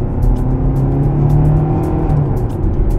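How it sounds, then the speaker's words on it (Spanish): Heard from inside the cabin, a 2025 Hyundai Tucson accelerates with a loud, steady engine and road drone that holds without letup, and no one speaks. "Vamos a acelerar."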